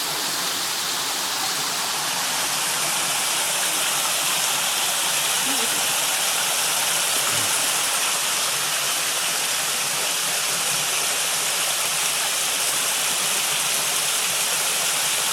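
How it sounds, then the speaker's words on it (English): A waterfall roars steadily and loudly, a dense unbroken rush of falling water with no pauses. "Tell me if you can hear voices from that waterfall, Jeanette, or is it just me?"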